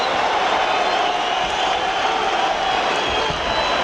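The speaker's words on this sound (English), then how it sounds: "Listen to this crowd" Dense crowd roar filling a boxing arena during a fight, a steady loud wash of cheering voices with no breaks across the whole stretch.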